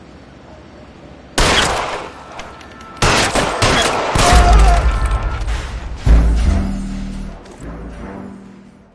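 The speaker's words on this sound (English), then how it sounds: "All units, shots fired, ops needs help." Heavy gunfire from a shootout in the video game L.A. Noire: loud bursts of shots and booming impacts in several clustered volleys, close and harsh, with a brief pause between bursts.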